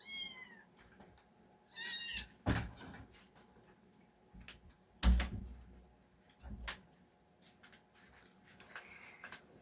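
Indoors, a kitten meows several times, a high drawn-out cry near the start, with a few loud thumps and knocks between the calls.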